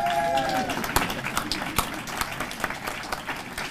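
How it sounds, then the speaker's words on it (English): Conference audience applauding, a scattered clapping texture with individual sharp claps standing out, fairly close and tapering off, with some background voices. "I haven't had this much applause in a long time"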